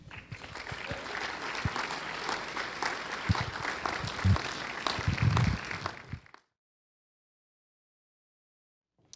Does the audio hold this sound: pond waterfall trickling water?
no